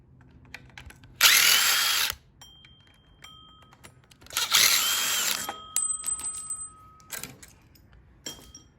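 A power tool removes 12 mm bolts from a Honda Accord's JDM K24 engine during an engine swap, in several loud bursts of whirring separated by pauses with small metallic clicks and clinks between them.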